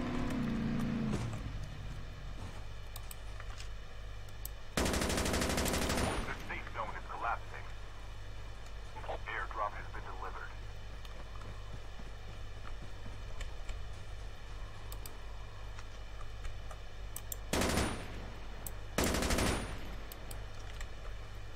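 Bursts of automatic gunfire from a Call of Duty Mobile firefight: a long heavy volley early on, then two short sharp bursts near the end, over steady game ambience with a voice talking.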